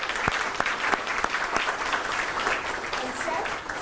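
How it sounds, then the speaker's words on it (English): An audience at a health communication lecture applauds Jane Brown, a dense, even patter of many people clapping that holds steady throughout with a few louder claps close by. "So round of applause for Jane."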